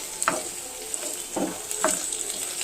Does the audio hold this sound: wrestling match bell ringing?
no